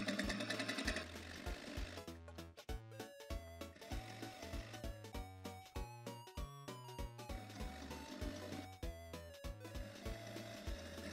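A sewing machine stitches around a hole in a pair of jeans, running in short rapid bursts with brief pauses as the fabric is guided and pivoted around the curve; mechanical, close and clear, no talking.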